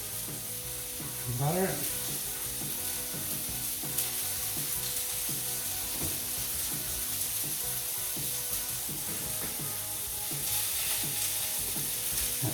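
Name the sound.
meat patty frying in a pan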